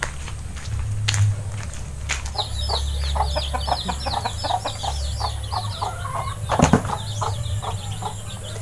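Chickens cluck steadily while eating, a busy, rapid chatter over a constant low hum, with occasional wing flaps and a louder burst near the end.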